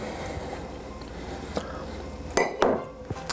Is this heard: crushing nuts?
yes